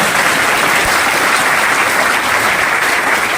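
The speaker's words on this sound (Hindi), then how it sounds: "एक बार ताली बजा दो" An audience at a public gathering in Mughalsarai claps loudly in dense, continuous applause that stays steady for several seconds.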